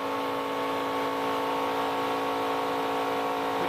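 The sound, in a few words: NASCAR Craftsman Truck Series race trucks at full throttle, Talladega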